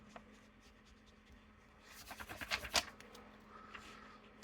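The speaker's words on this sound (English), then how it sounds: "you gotta erase shit sometimes" Pencil writing on paper being rubbed out with an eraser: quiet room tone, then a short burst of rapid scratchy rubbing strokes lasting about a second, fairly close, followed by a faint brush.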